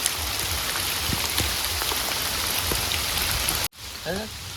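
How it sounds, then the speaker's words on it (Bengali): Steady rain pattering on foliage in the Sundarbans mangrove forest, loud and continuous for most of the clip before cutting off abruptly, with a brief faint voice at the end. "বৃষ্টি শুরু হয়ে গেল দারুণ ওয়েদার"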